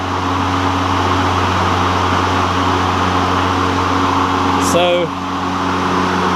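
Ryobi 40-volt battery electric push mower running steadily with a constant motor whine and blade hum, loud and close, with a brief voice near the end.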